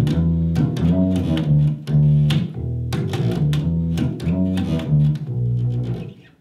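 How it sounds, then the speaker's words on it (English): Bass guitar played as a demonstration in a school music class, a run of plucked notes with deep sustained low tones in a steady rhythm, close and clear with no talking. "Another instrument here at Twin Lakes you can learn is the bass."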